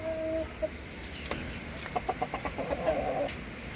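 Broody Plymouth Rock hens cluck in a short, close run of soft rhythmic notes. A sharper call comes first, and faint farmyard background sits underneath.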